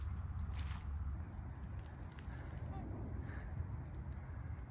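Faint, distant honking calls of trumpeter swans sound a couple of times over a low background rumble, far off and quiet.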